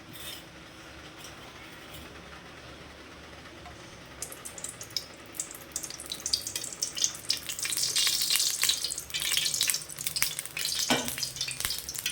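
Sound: oil poured into hot pan

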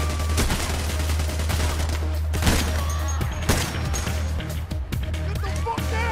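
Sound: gunfire from the video game Payday: Heat Street

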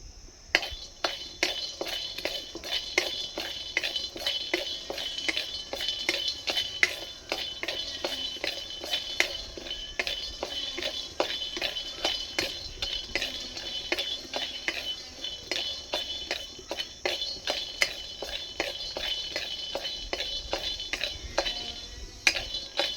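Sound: dry-roasting peanuts in a dry wok

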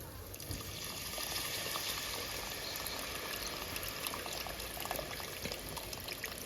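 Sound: tamarind extract being poured into fish curry

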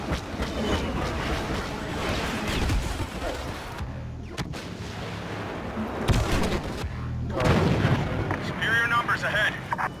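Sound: gunfire in Star Wars Battlefront video game

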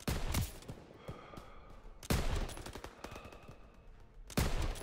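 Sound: machine gun fire in a video game

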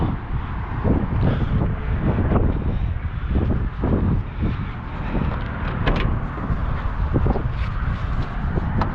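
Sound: strong wind blowing

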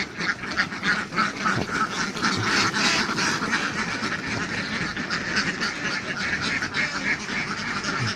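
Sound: ducks quacking

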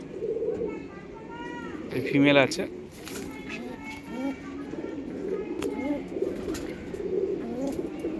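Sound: pigeons cooing

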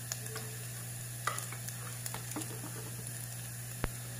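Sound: frying shallots in a pan

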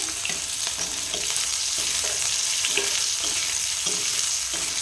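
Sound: chopped onion frying in oil

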